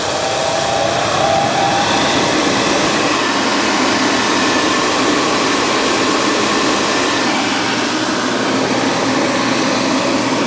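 Loud, steady whooshing roar of a newly replaced combustion fan on a Central Boiler Classic Edge 550 running continuously at full speed, close by, with no talk.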